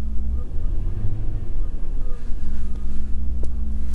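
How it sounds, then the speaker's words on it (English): A car engine revs while a wireless OBD2 diagnostic scan tool is connected, a loud, close, low rumbling drone that swells and eases with wind-like noise across the microphone. "So if I rev this up,"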